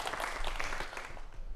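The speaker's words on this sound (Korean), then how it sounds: "박수 부탁드립니다" Applause from the audience at a Korean televised lecture forum, a dense, steady patter of many hands that holds at an even loudness for a moment before a speaker takes the stage.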